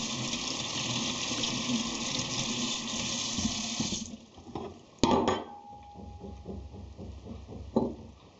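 Tap water pours steadily into a sink while ginger is washed, then cuts off, followed by a few close clunks and handling knocks.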